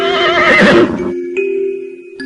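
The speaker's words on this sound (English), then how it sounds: "H. Horse." A horse neighs once, loud and close, a shrill whinny that falls off into a sustained ringing tone, with nothing else around it.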